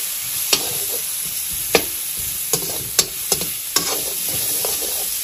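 Onion frying with ginger and garlic in a pan for Assamese pork curry, a constant close sizzle broken by six sharp scrapes and taps of a stirring spoon, with no talk.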